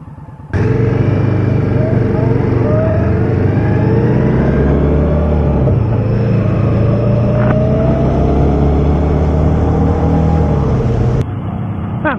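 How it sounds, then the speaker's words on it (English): Motorcycles pass along a road on a sunny day, their engines swelling into a loud, sustained close roar with shifting pitch as they go by, filling nearly the whole stretch before cutting off abruptly. "So many bikes out today."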